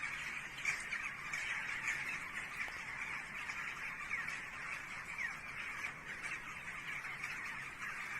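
Many birds gathered together on a tree branch in Turkey chirp and squawk continuously, a dense, faint chorus of overlapping calls with no talking.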